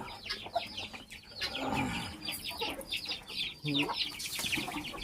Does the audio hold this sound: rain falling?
no